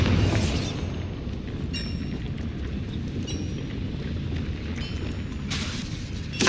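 A Bombarda spell goes off in Hogwarts Legacy, giving a loud, sustained rumbling boom with bright crackling bursts at the start and again near the end, heavy low roar throughout.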